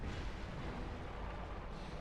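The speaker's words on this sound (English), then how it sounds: "Explosions." Explosions during a Dark Souls 2 boss fight come as a continuous, muffled low rumble of blasts, fairly quiet and steady with no talking.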